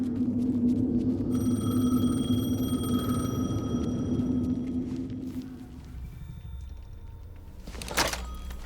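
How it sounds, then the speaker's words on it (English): A telephone rings in the video game Alan Wake 2 over a dark, humming rumble, its electronic ring sustained for several seconds before fading, followed by a sharp thud near the end. "The phone again."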